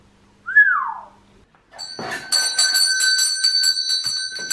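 A doorbell chimes loudly at home, its ringing tones sustained and decaying over a few seconds, preceded by a single rising-and-falling whistle-like tone.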